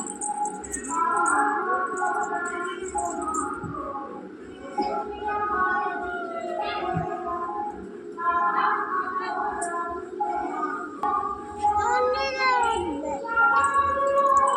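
A pet cat just roused from sleeping in a household shrine meows again and again up close, loud drawn-out cries in an uneven series, with a voice speaking now and then between them.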